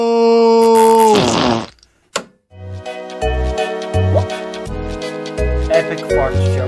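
A long drawn-out fart sound effect with a buzzing, tonal quality, followed after a brief pause by a jingling cartoon-style musical tune with a plodding bass line.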